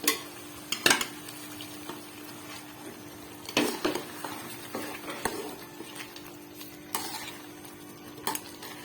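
Onions fry in a pot for mutton korma, a soft steady sizzle broken by scraping stirs and occasional clinks of a utensil against the pot, with no talking.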